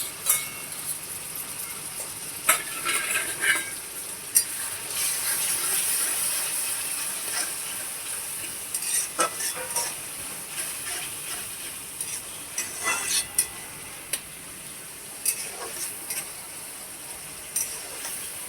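Tomato goes into a pan of onions browned in oil and sizzles with a soft, steady hiss, broken by scraping stirs and clicks from the spoon, with no talking.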